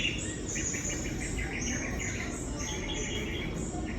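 Birds chirp and tweet continuously in an indoor forest area on an upper floor, a steady layer of high calls alongside insect-like buzzing over a low background hum.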